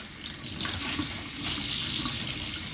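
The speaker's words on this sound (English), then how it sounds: "And there's my hot water." A steady rush of hot water pours from an RV faucet supplied by a gas-fired 10-gallon quick recovery water heater, a close, constant splashing hiss into the sink, nobody speaking.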